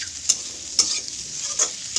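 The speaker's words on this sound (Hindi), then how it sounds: "जितना हो सके गैस को छोटा करके इसको फ्राई करते रहना" Mushrooms frying on a low gas flame in a pan, a soft constant sizzle with three or four scraping stirs of a spoon, close and without voices.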